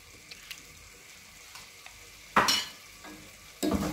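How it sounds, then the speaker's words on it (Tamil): Egg biryani with salt being stirred in a pressure cooker: a quiet kitchen background broken by a few soft clicks, then two louder scraping stirs, one in the middle and one at the end. "நல்லா மிக்ஸ் பண்ணி விட்டுட்டு மூடி வச்சிடலாம்."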